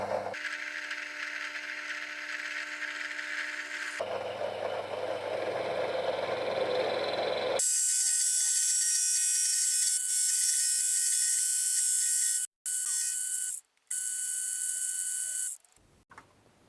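A milling cutter slowly cuts 1.2 mm deep into a homemade speargun line reel part, giving a steady mechanical whine and grinding that shifts pitch midway, with two brief pauses near the end before it stops.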